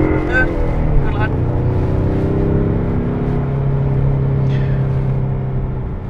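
Ford Mustang engine rumbling and pulling steadily as it accelerates, a loud continuous drone with rising tones, with a voice urging it on over the engine.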